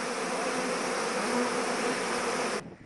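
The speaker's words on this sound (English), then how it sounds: "Local beekeeper Askhat Galiev is breeding German honeybees" German honeybees swarm around beehives at a Kyrgyz apiary, giving a dense, steady, close buzzing drone that fills the air evenly before cutting off abruptly near the end.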